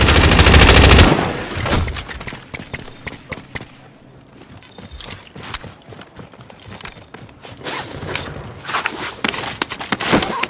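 Rapid bursts of automatic gunfire and single shots from the video game Warzone, loud and close at the start, then scattered shots mixed with footsteps and game effects.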